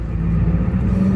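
Idling diesel engine of a 1989 Ford F-350 XLT Lariat IDI truck, a loud, steady low rumble with an even throb and no pauses.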